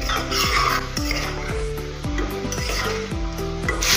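Roasted cumin powder and black pepper powder are stirred into a sizzling pan for a masoor and urad dal dish, with a spoon scraping the pan in steady, rhythmic strokes about twice a second over a constant fry.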